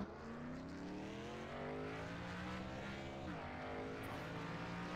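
Several stock cars in an iRacing Xfinity qualifying session at Auto Club Speedway leave the pits for the track, their engine notes layered and rising in pitch, heard faintly at a distance as a steady hum.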